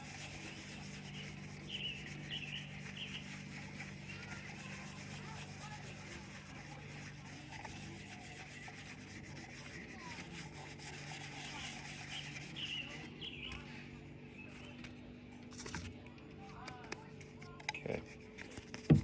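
Fine 3000 grit sandpaper rubs over a drinking horn in soft, continuous strokes. The sound is faint and low, with a quiet background hum and small knocks near the end.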